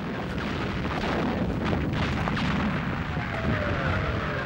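Artillery barrage of a WWII desert battle at El Alamein, a continuous dense rumble of explosions rolling on without pause, loud and sustained with no talk.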